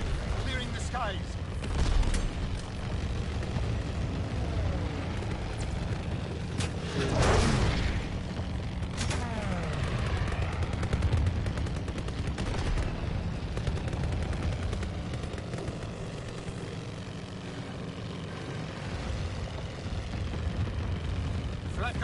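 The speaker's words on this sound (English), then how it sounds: "Guns firing, clearing the skies" Gunfire and heavy booming blasts from a PS4 video game, repeated bursts and explosions over a noisy, dense game soundscape while a voice talks throughout.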